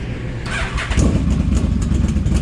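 A Yamaha V-Max motorcycle engine revs loudly at close range, a brief rumbling blip of throttle that swells and pulses unevenly over a couple of seconds, with no voices.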